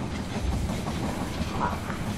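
A train pulling into a station in the strategy game They Are Billions: a muffled, continuous rumble with a faint hiss, fairly loud and steady for a couple of seconds, without speech.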